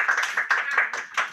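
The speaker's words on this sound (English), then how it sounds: "Massive round of applause." Year three pupils at a school game show get a burst of applause, brisk clapping from a group of hands that comes in several surges over about a second and a half.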